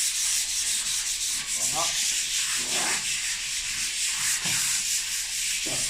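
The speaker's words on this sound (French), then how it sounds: "Une fois qu'on a poncé une finition, c'est juste pour enlever une petite couche pour le rendre poreux." Sanding a bare wooden staircase, a steady bright abrasive rubbing with repeated back-and-forth strokes, close and continuous, with a brief spoken word.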